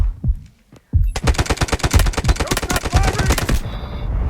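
Machine gun fire in the Delta Force shooter game, a couple of isolated shots followed by a long rapid burst of loud, evenly spaced rounds lasting about two and a half seconds.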